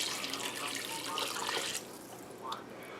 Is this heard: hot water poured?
yes